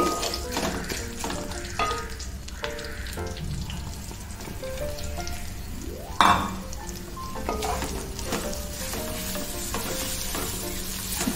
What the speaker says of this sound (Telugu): ఇవన్నీ చక్కగా ఫ్రై అయిన తర్వాత తురిమిన కొబ్బరి వేసుకోవాలి